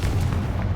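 A Confringo spell explosion in Hogwarts Legacy lands as a dense, booming blast that fills a brief moment, loud and close, with no voices over it.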